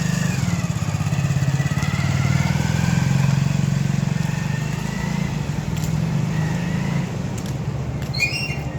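A motorcycle engine drones loud and close as a rider races in a timed bike challenge, holding a steady revving roar for several seconds before easing slightly near the end.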